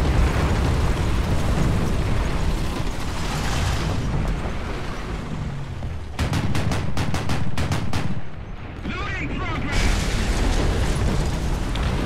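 Tank cannon fire and explosions in the War Thunder tank battle game: a dense, continuous roar of blasts and gunfire, with a cluster of sharp, rapid shots in the middle, loud throughout.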